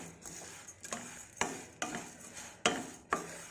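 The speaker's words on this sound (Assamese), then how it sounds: "মাটি দালি এনেও অলপ ভাজি পিনি" Black gram lentils being lightly dry-fried in a pan and stirred with a spoon, giving repeated sharp scraping strokes about every half second over a soft sizzle, close and alone.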